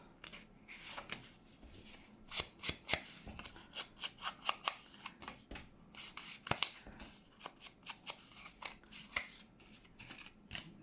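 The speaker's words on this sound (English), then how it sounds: "I'm just trying to take the cards out and keep them on the right pocket" Paper cards being pulled from pockets of a junk journal, a quiet run of short papery rustles, slides and snips, close and irregular with no talk.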